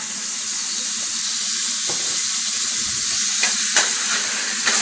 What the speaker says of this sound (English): See, it's simmering.